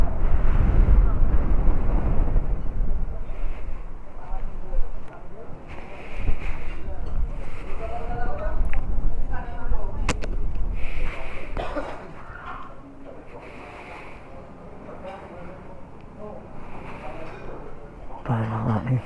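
Strong gusting wind buffets the microphone on the Marilaque mountain road on a rainy, foggy morning, a loud low rumble that stays steady and then eases toward the end, with brief voices heard over it.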